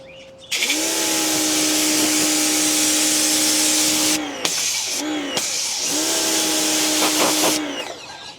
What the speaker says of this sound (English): So let me just start her up now and see what we're working with.